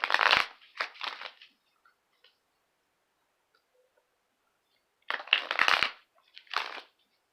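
Tarot cards are shuffled in two separate bursts of crisp, close riffling and slapping, with a long silent gap between them.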